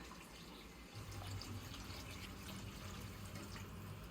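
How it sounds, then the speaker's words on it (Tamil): Water poured steadily into a pot of traditional tomato rasam, a faint continuous splashing trickle that runs unbroken for a few seconds. "தேவையான தண்ணி ஊற்ற போகிறோம் காய்ஸ்."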